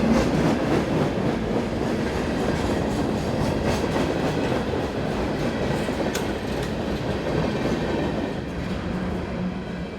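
A long freight train in Eastern Virginia rumbles steadily past close by through a station, wheels clattering over the rails in a continuous roar that eases slightly toward the end.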